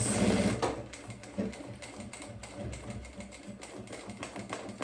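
A sewing machine stitches the seam of a toiletry bag in rapid, steady mechanical clatter, close and continuous with slight bursts in speed.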